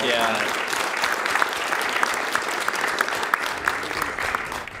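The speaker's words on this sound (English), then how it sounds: "Let's give him a round of applause." A speedrun event audience claps steadily for several seconds, a dense wash of applause with a few sharper claps standing out.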